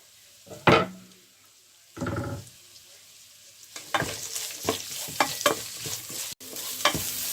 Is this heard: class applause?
no